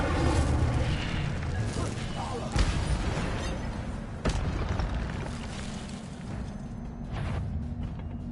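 Fiery Incendio spell blasts in a wizard video game, two sharp booming bursts over a constant low rumble of game ambience.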